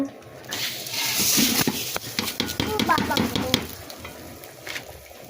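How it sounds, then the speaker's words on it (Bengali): Polao rice being stirred while it fries in ghee in a pan for chicken biryani, giving a soft, uneven sizzle with scraping stirs and light clinks, close by; a voice speaks over part of it. "ঘি দিয়ে চালটা ভেজে নিয়েছি"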